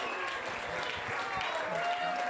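Audience at a live country concert keeps applauding, a dense, steady wash of many hands clapping at moderate distance, with faint voices mixed in.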